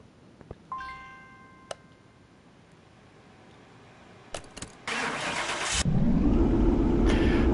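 A rebuilt Dodge Challenger SRT Hellcat with a 6.2 litre Hemi V8 cranks after a few clicks and a starter whine, then catches and settles into a loud, steady idle on a dyno.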